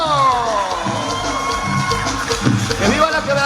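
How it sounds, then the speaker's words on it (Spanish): A party crowd cheers and shouts loudly, with clapping mixed into a dense wash of voices and music. "¡Aplauso!"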